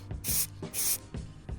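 An aerosol spray can paints an Alfa Romeo Giulietta front brake caliper in short hissing bursts, two longer sprays with quieter shaking and rattling between them, close and loud.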